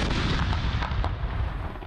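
Artillery booms during a 21-gun salute marking a national day of thanksgiving in Pakistan, heard as a dense, loud, sustained roar of cannon fire with no speech.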